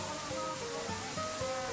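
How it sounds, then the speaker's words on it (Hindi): Pradhanpat waterfall in Deogarh with water pouring down steadily, producing a constant broad rushing wash at moderate level, alone without voices. "प्रधानपाट जलप्रपात को।"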